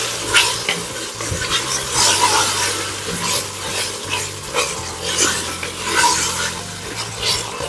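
Frozen okra cooking in a chocolate-coloured roux for gumbo, with a continuous sizzle and repeated scraping stir strokes against the pot, steady and fairly close.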